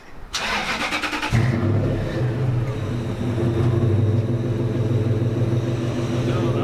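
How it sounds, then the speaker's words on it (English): A car engine fitted with a new exhaust pipe starts up and settles into a loud, steady, throaty rumble, rising slightly in a short rev, close by with no talk over it. "I'll rev it. Yeah, it is a little louder."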